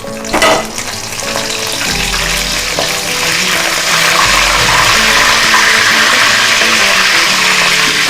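Bay leaf and curry leaves drop into hot oil with cinnamon, cloves and cardamom for a chicken gravy, giving a loud, steady close sizzle with a brief clatter of stirring at the start.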